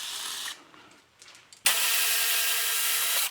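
Power tool working on the brake caliper of a 1978 Corvette: a short whirring burst, a pause with faint clicks, then a loud sustained high whine running to the end.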